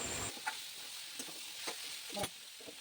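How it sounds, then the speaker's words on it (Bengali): Onions fry with salt in a pan for a jackfruit and prawn curry: a steady, fairly quiet sizzle with a few soft crackles and stirring taps scattered through it. "পেঁয়াজগুলো যাতে ভালোভাবে ভাজা হয় তার জন্য মা এখানে কিছু নুন দিয়ে দিয়েছে"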